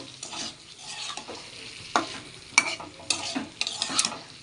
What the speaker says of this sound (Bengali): এখন চিংড়ি মাছটা দিয়ে দিলাম চিংড়ি মাছটা দিয়ে আর একটু কষিয়ে নেব